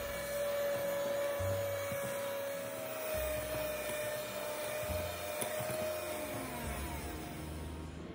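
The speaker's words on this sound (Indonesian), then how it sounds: "Setelah itu lanjut dikocok lagi sampai mengembang dan kental berjejak" Electric mixer whipping cake batter for a coffee pudding cake until thick and fluffy, a steady close motor whine with shifting low hum as the beaters work, no talking.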